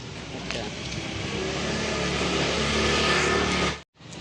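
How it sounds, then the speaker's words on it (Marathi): A car being driven out of a residential society parking area in Silvassa, a steady close engine hum and rolling rumble that holds for about four seconds before cutting off. "आता गाडी काढत आहेत हे बघा"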